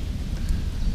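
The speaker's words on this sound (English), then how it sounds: "the rain is a little heavier. I can hear it." Steady rain falls during a wet bicycle ride on a street, a continuous dense hiss with low rumbling wind or road noise underneath, fairly close and uniform with no talking.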